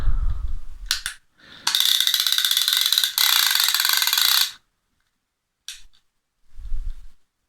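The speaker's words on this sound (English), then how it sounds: "Clicker's really loud as well." Loud mechanical clicking ratchet of a vintage multiplier fishing reel's clicker, a short burst then a long continuous buzzing run, followed by a couple of brief clicks.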